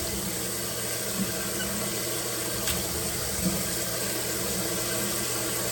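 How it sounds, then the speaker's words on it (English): Steady running water fills a pan for heating grapes, a continuous broadband rush with a low background hum and no talking. "I'm just going to put some water in the other pan and add the grapes into that"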